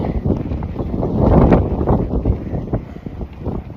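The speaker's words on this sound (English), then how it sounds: "And it's a little windy." Strong gusting wind at Camp 4 on Mount Everest buffets the microphone in a steady, loud roar that swells in the middle, with no voices heard.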